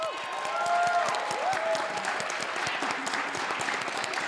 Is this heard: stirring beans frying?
no